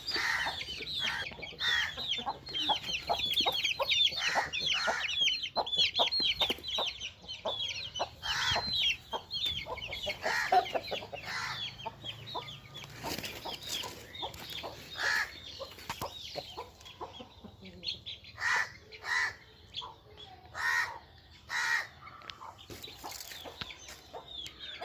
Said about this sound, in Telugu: ఇదిగోండి, ఇది ఒక పుంజు.